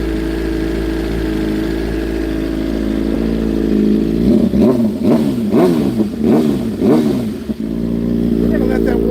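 A new motorcycle engine idling as it warms up: a steady low rumble, joined midway by a voice talking over it before the idle settles again.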